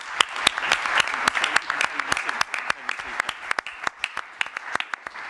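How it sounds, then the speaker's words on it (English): Audience applause welcoming a guest at a talk about James Bond vehicles, a modest crowd clapping with distinct individual claps standing out sharply, sustained evenly for several seconds. "please give a round of applause to Robert Hurdle"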